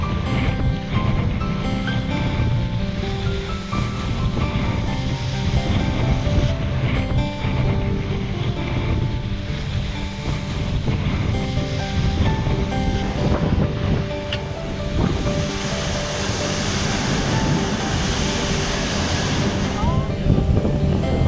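Aboard a Bali 5.4 catamaran sailing wing and wing at about 8 knots in a 15 to 16 knot wind, a loud, steady rush of wind and water fills the air, with voices faintly underneath.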